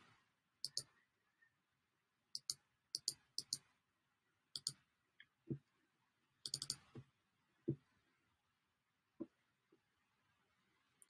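Computer mouse clicks in a quiet room, sharp and close, arriving singly and in quick pairs with irregular gaps between them.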